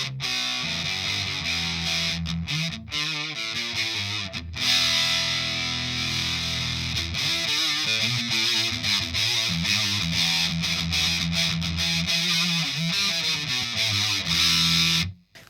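Electric guitar run through the distortion section of a Walrus Audio Melee Wall Of Noise pedal, loud bright fuzzy chords played continuously with brief pauses between strums.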